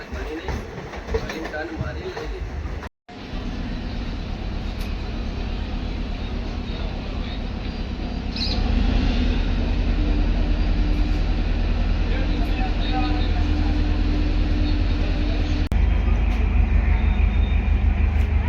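A train rumbles and clatters steadily, growing louder and heavier partway through as it rolls into Ambaliyasan Junction in Gujarat, with faint voices underneath.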